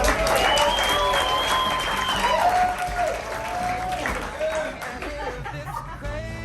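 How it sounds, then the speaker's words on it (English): An audience claps for Karoline at a gathering, a full round of applause with chatter and some laughter mixed in, loud at first and gradually thinning toward the end while voices carry on beneath. "Can I get a round of applause for Karoline?"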